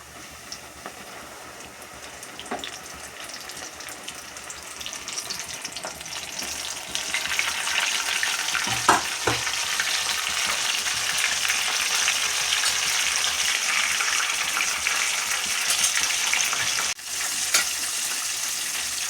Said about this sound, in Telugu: ఇప్పుడు ఇవి నూనెలో వేసేస్తున్నాను.